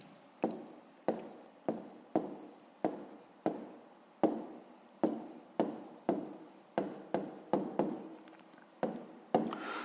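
Pen or pencil writing out a math answer by hand on paper, a steady series of short scratchy strokes with brief pauses between them, close and clear with no talking.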